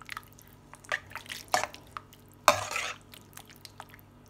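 Chicken Manchurian is stirred and mixed in a pan, giving soft wet squishes and a few sharper spoon-against-pot clinks, intermittent and close, with quiet gaps between.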